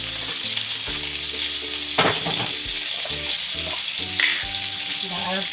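Chopped onion fries in a pan as a garnish for jollof noodles, giving a continuous, fairly loud sizzle with occasional stirring clicks, alone and without talk, over a faint background hum.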